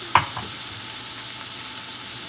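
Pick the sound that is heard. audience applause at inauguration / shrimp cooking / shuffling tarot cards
shrimp cooking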